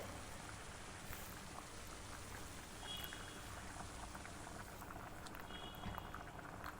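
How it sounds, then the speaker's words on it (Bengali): Butter hits burnt sugar caramel in a pan, giving a steady close bubbling and sizzling with fine crackles that runs the whole time without letting up, and no voices. "এখন আমি এখানে দিয়ে দিলাম দুই টেবিল চামচ মতো বাটার"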